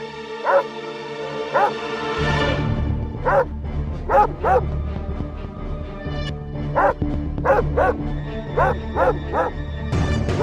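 A battery-powered toy dog barks and yips in repeated short bursts, some doubled, over a steady low mechanical hum, loud and close, with no talk over it.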